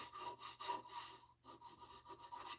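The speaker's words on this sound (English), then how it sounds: "We'll just start at a lower grit of sandpaper, shall we?" Sandpaper at a lower grit rubs against a spinning walnut workpiece on a wood lathe, giving a close, steady rasping hiss in repeated strokes with brief pauses, no voices.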